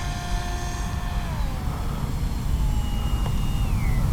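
An H-King Bixler 3 RC model airplane drones overhead, its electric motor whine gliding up and down in pitch as it passes at a moderate distance over steady outdoor background noise.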